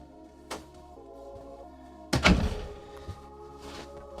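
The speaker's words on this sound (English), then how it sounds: "Forget to close the door so I get more room noise" A room door thuds shut with a single loud thunk about midway, preceded by a softer knock and followed by faint rattles against steady indoor room noise.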